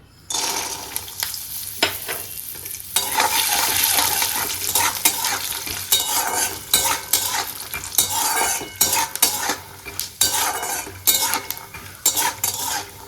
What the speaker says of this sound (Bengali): এদিকে আমার কড়াও গরম হয়ে গেছে আমি এখন বাদামগুলো দিয়ে দেবো